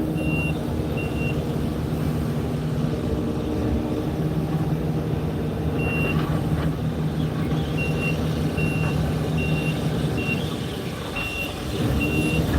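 A truck at a demolition site reverses with a regular, repeating series of high beeps, steady and moderately distant, over constant engine rumble.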